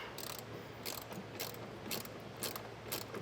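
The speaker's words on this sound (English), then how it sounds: "to get this on our post, we have a 15mm socket, so we'll get this loosened up" A ratchet with a 15mm socket loosens a battery terminal nut on a 2018 Ford Transit, making a rapid clicking pawl sound in short repeated bursts at close range, with no talking.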